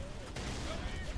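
Rapid gunfire bursts from a turret being fired in the Halo 3 video game, a dense steady barrage of shots filling the moment at a moderate level.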